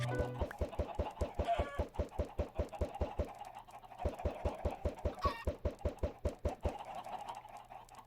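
Chickens in the Minecraft video game cluck in short bursts over a steady, rapid knocking pulse that runs throughout, with brief gaps near the middle and end.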